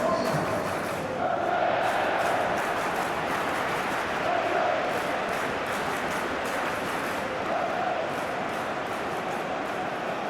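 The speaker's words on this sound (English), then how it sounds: "A capacity crowd here" A capacity stadium crowd in the eFootball PES video game roars and cheers at a World Cup simulated match between Belgium and Senegal, a continuous dense wash of voices that swells in waves, with occasional commentary over it.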